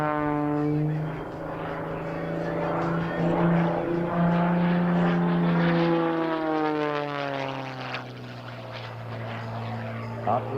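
Aerobatic airplane flown by Rob Holland at the Geneseo, NY airshow, its engine tone sweeping up and down continuously through a cobra and edge-to-edge maneuvers, loud and sustained with faint announcer talk underneath.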